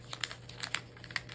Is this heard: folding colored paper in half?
yes